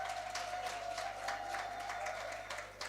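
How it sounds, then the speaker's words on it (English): Moderate applause from a forum audience at an education conference, steady claps with distinct peaks, fairly distant, over a faint background tone. "Let's give St. Lucia a round of applause"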